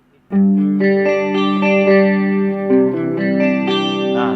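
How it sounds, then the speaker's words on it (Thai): An electric guitar through an effects unit and amp plays a series of sustained, distorted notes with a shimmering chorus-like effect, loud and alone, ending on a wavering bent note. "เสียงของเอฟเฟกจะชัดเจนขึ้นนะครับ"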